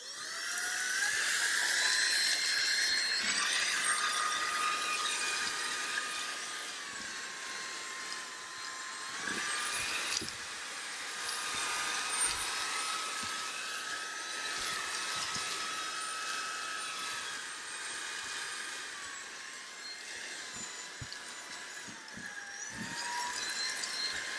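A Lubluelu cordless vacuum cleaner's high-pitched motor whines continuously at moderate volume, its pitch wavering slightly as it runs without pause.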